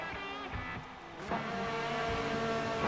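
A race car engine in the video game Forza Motorsport 7 revs and accelerates at moderate volume, its whining harmonics climbing in pitch, a short rising surge near the middle.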